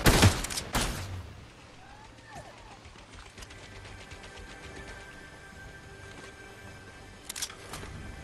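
Video game gunfire cracks in a loud, quick flurry of shots at the start, goes quiet over a low background, then returns as a brief second burst near the end.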